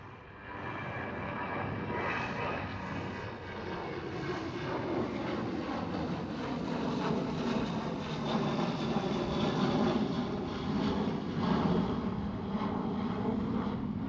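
Transavia Boeing 737 airliner at Amsterdam Schiphol airport, a steady, distant roar of jet engines that swells slightly as it holds for the whole stretch.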